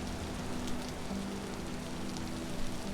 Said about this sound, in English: I guess the thunderstorm part of this rain has moved off to the west.